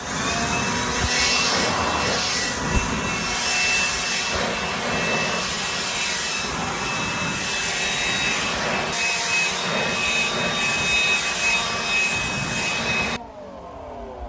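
A blower pushes dust out through a window with a loud, continuous rushing roar that holds steady for about thirteen seconds and then cuts off abruptly, with no talking.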